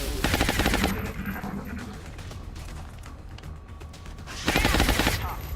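Pistol reloaded and fired in the video game XCOM Long War: loud bursts of gunfire with mechanical clicks open and close the passage, separated by a quieter stretch of handling noise.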